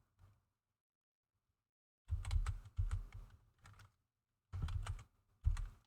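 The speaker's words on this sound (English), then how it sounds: "I just want to type one thing more in my moderator's side of things." Bursts of computer keyboard typing, a quick flurry of keystrokes followed by short clustered runs, close and fairly quiet with silent gaps between.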